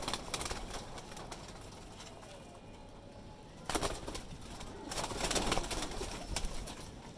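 Teddy pigeons coo in a loft, soft low murmurs over a faint background, with brief louder bursts of movement or wing flutters.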